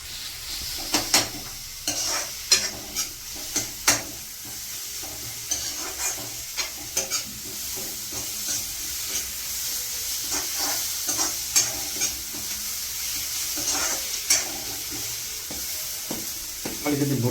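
Spices fry and sizzle steadily in a pan while being stirred for puri chhola, with a continuous hiss broken by frequent scraping clicks of the spoon, close and fairly loud throughout.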